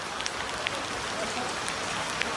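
Heavy rain pours steadily over Bara Bazar market in Shillong, near the non-veg section, as a dense, even hiss with a few faint drips and patters on top.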